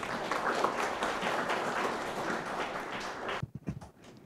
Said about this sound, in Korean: 우선 큰 박수 부탁드리겠습니다.